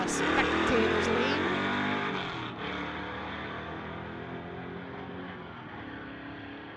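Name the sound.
Ford Mustang drag racing down the strip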